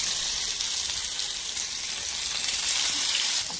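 Fish frying in hot oil, a continuous bright crackling sizzle at steady loudness, close by, with no talk.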